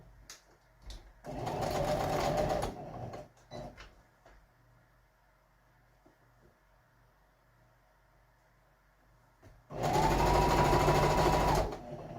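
A sewing machine stitches a one-panel pillow in two loud, steady bursts of rapid mechanical whirring, each lasting about two seconds, separated by quiet handling and light clicks at close range.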